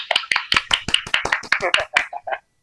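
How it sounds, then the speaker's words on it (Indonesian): Rapid, sharp handclaps at an online webinar about athletes during the pandemic, about a dozen close-spaced claps over two seconds, close and fairly loud, ending with a couple of softer hits. "Mantap, tepuk tangan."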